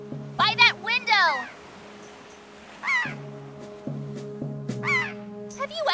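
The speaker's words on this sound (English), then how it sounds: "Have you ever seen so many seagulls flock like that before?" Seagulls calling in bursts of harsh, descending cries over a steady sustained tonal drone, with loud clusters near the start and more scattered calls later, as in a flock circling a building in a Wind Waker scene.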